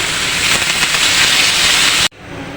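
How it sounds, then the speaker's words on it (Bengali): Water poured into a hot pan of fried potatoes with chili powder and green chilies for a fish curry gives a loud, steady hiss for about two seconds that cuts off abruptly, leaving a faint quiet tail. "পানি দিয়ে দিই"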